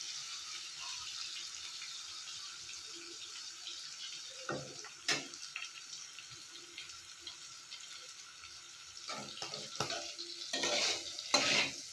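Fried potatoes are stirred together with curry leaves, mustard seeds and green chillies in a pan, with soft sizzling beneath scattered scraping and clinking spoon strokes that grow busier toward the end.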